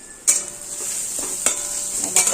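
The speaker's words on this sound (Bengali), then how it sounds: "পেঁয়াজ লঙ্কা ভাজা ভাজা হয়ে গেছে" Onions and chillies fry in a pan with a steady, close sizzle. A few sharper scraping bursts of stirring break through it, and no one speaks.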